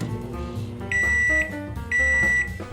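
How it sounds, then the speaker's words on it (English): A microwave oven heating spaghetti rice gives two long, loud electronic beeps about a second apart over a steady low hum, with no talking. "we still need to heat this up in the microwave"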